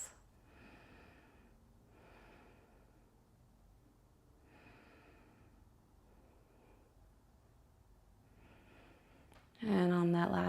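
Slow, deep breaths during a gentle meditation and movement practice, several soft inhale and exhale cycles spaced a couple of seconds apart, quiet and close, ending in a sudden louder burst of sound.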